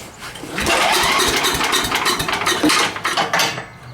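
A small engine from a weekend haul is pulled over and catches, sputtering into a loud, uneven run close by, with no talking.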